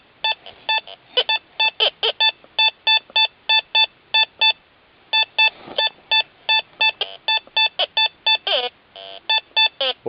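A Teknetics Eurotek Pro metal detector sweeps over a test garden and gives rapid, evenly spaced electronic beeps in short bursts, with a few warbling, grunting tones mixed in. The signal is close and clear, with no talking.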